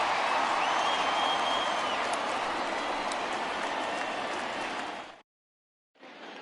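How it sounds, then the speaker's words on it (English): A home stadium crowd in MLB The Show 20 gives a standing ovation as a pitcher leaves the game: steady, dense applause and cheering at loud volume, which cuts out briefly near the end and then resumes. "this home crowd likely to give him a standing O as he departs with the shutout in check"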